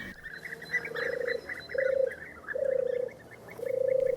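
European turtle doves coo in a rural plain, four soft purring phrases spaced about a second apart over faint background birdsong.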